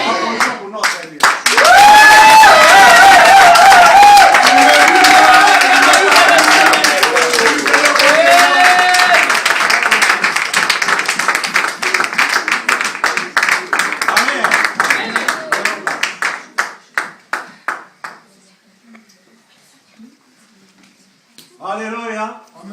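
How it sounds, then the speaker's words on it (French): A church congregation in Paris claps loudly and steadily, dense applause filling the space for about fifteen seconds with voices crying out over it, then thinning to scattered claps and fading. "Applaudissons pour notre Dieu."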